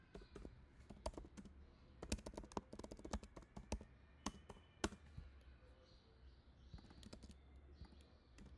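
Someone types code on a computer keyboard, the keys clicking in irregular quick bursts and single taps, close and fairly quiet, with no voices.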